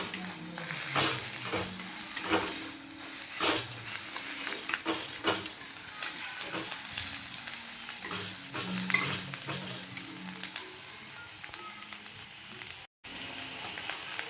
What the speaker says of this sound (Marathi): अंडे टाकले टाकलेच आपल्याला छानपैकी हलवून घ्यायचे